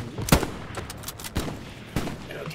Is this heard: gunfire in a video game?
yes